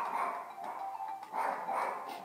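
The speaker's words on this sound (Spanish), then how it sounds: "El perrito." A small dog gives soft, whining yips in close, fairly loud bursts with no talking over it.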